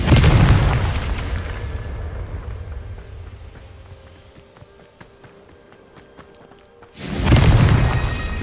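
Confringo fire spell explosions in Hogwarts Legacy land as a heavy boom that fades into a long, quieter stretch of scattered thuds and crackles, then a second loud blast erupts near the end.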